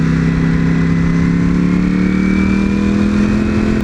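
A V4 motorcycle engine revs steadily while being ridden, a loud, continuous mid-pitched drone with a slowly rising whine and no talk over it.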